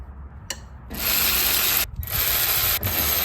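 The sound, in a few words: ratchet removing power steering pulley bolts on Land Cruiser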